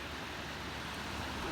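Ocean-like rushing held to the ear from a large conch shell picked up while clamming at a beach campsite on Wonsando island, a steady, soft, even wash with no talk over it.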